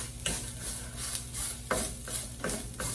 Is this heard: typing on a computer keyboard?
no